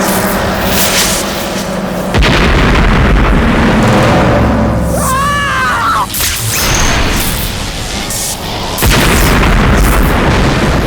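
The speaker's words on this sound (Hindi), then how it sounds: "धमाका हुआ, धमाका।" Heavy booming blasts roar continuously, loud and close, with a brief whooshing, warbling tone in the middle and another surge at the end.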